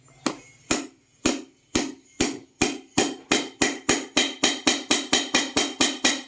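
Sharp hammer taps seat a water pump seal on a Honda NSR150 motorcycle, repeating steadily, slow at first and then speeding into a quick, even rhythm, close and crisp with no talking.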